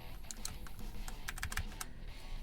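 Steady typing on a BlitzWolf BW-KB1 compact 60% mechanical keyboard with brown Gateron switches, a continuous run of close, fairly quiet clacking keystrokes with no voice.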